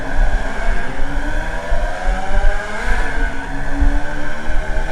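A Formula Vee race car in iRacing launches at Summit Point with the clutch dumped at low throttle, a loud buzzing engine revving up and rising in pitch, with other cars roaring close by.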